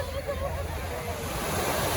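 Strong ocean waves roll and crash at Repulse Bay, Hong Kong, in a steady roar, with wind buffeting the microphone.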